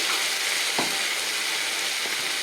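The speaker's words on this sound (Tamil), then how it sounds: "இந்த 2 தக்காளியும் இதை நல்லா குழையிற மாரி வதக்கணும்" Tomatoes sautéing in a pan for brinjal rice (vangi bath) give a steady, close sizzling crackle throughout, with a brief louder stir scrape partway through and no voices.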